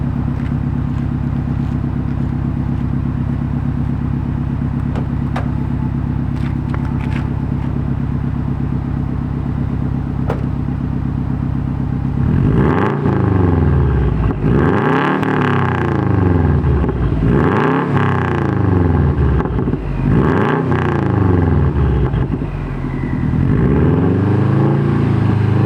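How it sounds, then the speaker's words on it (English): A 2012 Subaru WRX with a Gentleman's exhaust idles with a low, steady burble, then climbs into four or five loud, close mid-throttle revs, each rising and falling back down. "rev it up a couple times, and we'll do about mid-throttle and see what we get"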